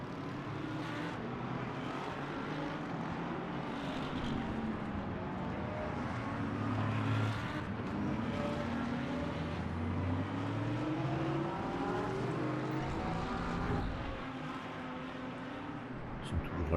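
Race cars in the Le Mans Ultimate sim racing game pass by one after another, engines droning and rising and falling in pitch with continuous loud roar throughout.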